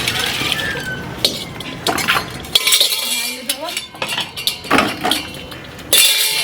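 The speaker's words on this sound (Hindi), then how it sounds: "की करै छी बर्तन धोबै छी" Dishes and metal utensils being washed, with repeated close clinks and clanks of pots and cutlery in an uneven rhythm, and occasional faint voices underneath.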